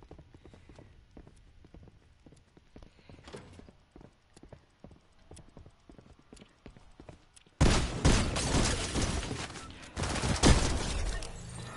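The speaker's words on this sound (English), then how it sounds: "Heard the footsteps" Footsteps in a stealth video game: a series of quiet, rhythmic impact sounds, then a sudden loud burst of dense, noisy game sound with sharp cracks partway through.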